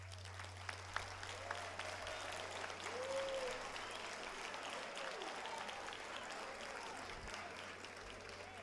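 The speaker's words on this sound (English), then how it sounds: "that was a good round of applause" An audience applauds teachers at a school gathering. The clapping is steady and crowd-wide and keeps up without a break for about eight seconds in a large room.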